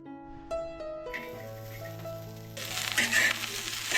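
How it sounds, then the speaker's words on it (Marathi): Onion roasting in a pan, heard as a gentle sizzle that swells louder partway through, with light rustling and scraping, under a layer of sustained musical tones. "कांदा मस्तपैकी भाजून घ्यायचा आहे"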